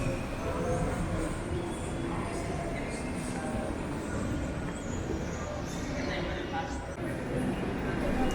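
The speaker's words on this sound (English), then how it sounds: "On the way back to the lounge, our train arrived in." A GWR Night Riviera sleeper train rumbles steadily along the platform as it arrives, with low mechanical droning and faint wheel screeches, while a murmur of voices carries in the background.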